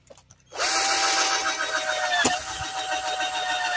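An electric drill bores holes for a solar energy system installation at a vineyard house, starting abruptly after a brief quiet and then whining steadily and loudly, close by, with a short knock partway through.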